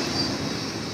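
CSX freight train 681 speeds through Altamont, Illinois, making a loud, close, steady roar of wheels and cars rushing past.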